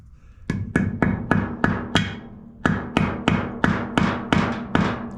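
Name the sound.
hammer tapping in new oil seal on John Deere LA145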